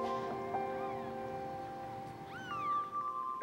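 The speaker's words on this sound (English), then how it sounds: "I'm going to look at these five little kittens" Five little kittens at a vet clinic give a few thin, high meows, one rising and longer near the end, over a steady background hum with no talking.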